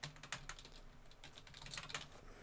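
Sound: typing on a computer keyboard

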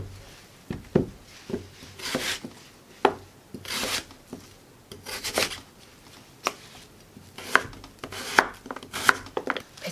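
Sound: knife cutting radish into flat slices

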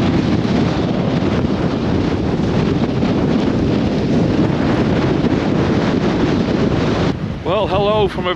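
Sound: storm wind on lakeshore

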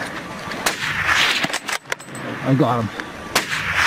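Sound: gunshots while hunting a bear in Alaska

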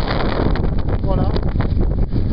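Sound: strong wind

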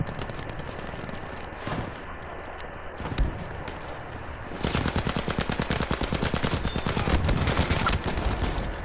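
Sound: Welgun submachine gun firing in the video game Battlefield V

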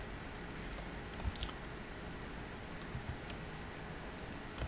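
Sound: typing on a computer keyboard

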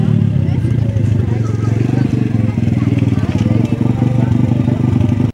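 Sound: motorcycles riding in

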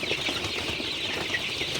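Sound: Sonali chickens clucking

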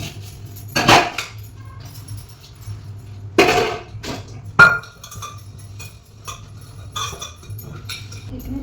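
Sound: scrubbing and washing dishes, clinking pots and glass

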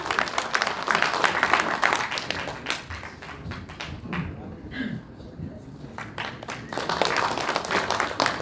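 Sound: applause

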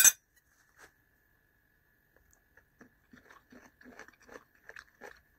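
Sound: crunchy chicken and egg fried rice with carrot and peas being eaten

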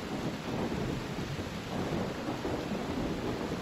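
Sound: heavy rain in video game

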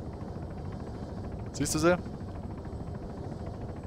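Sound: helicopter in the video game Arma 3

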